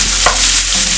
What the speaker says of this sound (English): stir together.